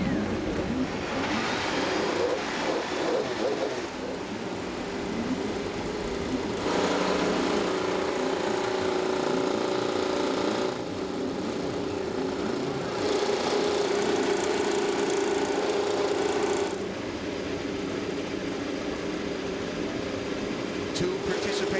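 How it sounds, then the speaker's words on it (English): Honda and Chevrolet IndyCar engines start and idle on the grid at the 2016 Detroit street race, a loud, sustained buzzing drone that swells and shifts in several waves, with voices faintly mixed in. "Drivers, start your engines."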